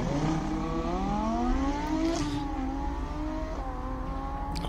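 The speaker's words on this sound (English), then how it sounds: "I love the sound of that Audi." An Audi V10 race car engine at a hillclimb, revving hard with rising and shifting engine tones, a loud continuous roar close by.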